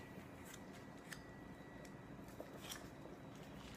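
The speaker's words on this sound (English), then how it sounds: "No need to worry about that sound. It's just my paper of ingredients." A paper ingredient list in a home kitchen rustles faintly in a few brief, scattered crinkles and snips over a steady background hum, with no voices.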